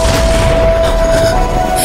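Dense, continuous explosive rumble from a fantasy martial-arts drama, a loud low boom and crackling blast noise sustained throughout with a steady whine running underneath.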